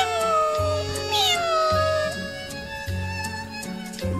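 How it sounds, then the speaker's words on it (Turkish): A cat meows in clear rising and falling calls over a steady low rumble of background noise, heard nearby outdoors or while being carried. "Kedi, bak kedi."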